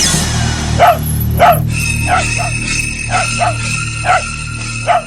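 A dog barks repeatedly in short, loud yaps spaced about half a second to a second apart, close by over a low steady background hum, during a kids' comedy performance.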